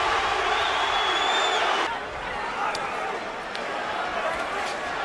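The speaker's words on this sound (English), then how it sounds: "And the crowd is chanting, B-Hop," Boxing arena crowd at the Bernard Hopkins vs Kelly Pavlik fight roars and chants B-Hop, a loud, dense wall of voices that dips slightly after two seconds, with a commentator talking over it.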